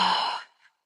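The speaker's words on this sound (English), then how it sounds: "And exhale. One more time, breathe in. And exhale." A single deep exhale during a guided breathing exercise in a glutes and hip workout session, a loud breathy rush that fades out after about half a second, alone and close.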